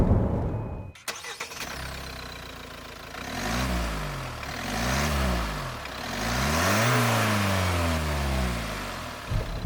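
A Hyundai Palisade's 2.2-liter diesel engine starts, then revs and accelerates through several gear changes, its low drone rising and falling in pitch, loud and close, with no talk.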